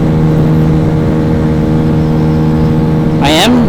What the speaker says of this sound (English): I am running very high on the rev limiter, and I can hear it doing cut. I'm bouncing.